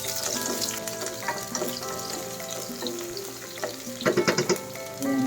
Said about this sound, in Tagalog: Ilalagay na natin ang ating white onion. Haluin lang natin.